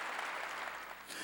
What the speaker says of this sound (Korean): 박수로 하나님께 영화 돌려야 될 거 아니에요